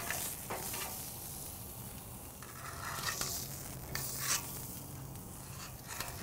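A 200-day dry-aged ribeye sears in a hot pan with a continuous crackling sizzle, with occasional louder spits and pops, close up and steady throughout, with no talking.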